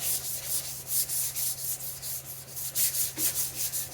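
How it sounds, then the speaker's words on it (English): Hand sanding metal on a 1961 Shopsmith Mark 5 500, block sanding dry with steady back-and-forth rubbing strokes, a rhythmic scratchy rasp repeating about twice per second, close up over a low constant hum. "So let me do a little bit of sanding here"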